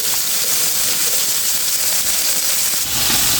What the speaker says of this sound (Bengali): কই মাছগুলো তেলের উপর দিয়ে দিয়েছি